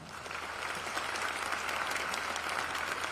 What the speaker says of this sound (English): Let's give them a big round of applause for all that they do also.